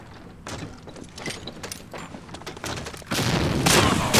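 Muffled bursts of gunfire and blasts in the Medal of Honor: Allied Assault multiplayer game, ending in a louder, broad explosion near the end, heard through game audio without talk.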